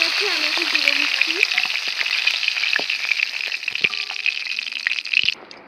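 A rohu fish head fries in hot oil in a pan with a constant bright sizzle and scattered crackles and pops, steady throughout and close to the microphone.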